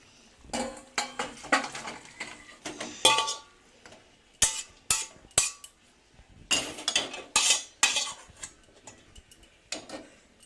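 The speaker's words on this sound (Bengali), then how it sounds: "এবার আমি কড়া থেকে এটা ঢেলে নিচ্ছি, আর এক জায়গায় ঢেলে নিয়ে সাঁতলাবো।" Cooked food poured and scraped out of a wok makes a series of sharp metallic clinks and scrapes, irregular and close, with short pauses between clusters.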